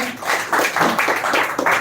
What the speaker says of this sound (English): And once again, clap for her.